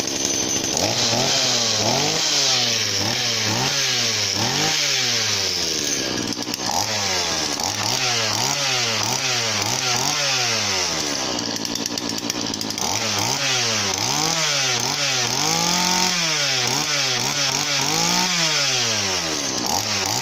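A loud, raspy 3800 chainsaw with its stock exhaust opened up runs nearby without pause, its pitch repeatedly revving up and dropping back in uneven bursts.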